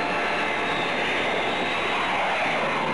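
A cartoon aircraft roars steadily as it takes off, a loud continuous engine drone from a 1966 King Kong cartoon, heard alone without talk.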